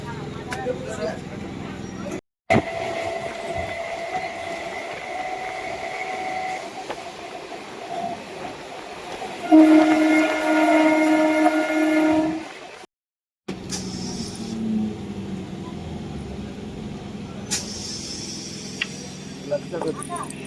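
Train rumble at a station as passengers get off, with a steady low roar, a tonal hum or horn in the middle, and people talking over it.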